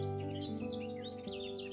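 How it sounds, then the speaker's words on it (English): Birds sing and chirp in a forest, bright twittering calls weaving continuously over a steady tonal background, fairly faint throughout with no talking. "the melodious songs of the birds"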